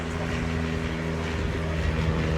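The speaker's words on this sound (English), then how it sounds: "So as Richard comes round now in this Tiger, he's in an open cockpit" A Tiger biplane with an open cockpit, flown solo from the rear seat, passes at an air display, its propeller engine giving a steady loud drone with a strong low harmonic hum throughout.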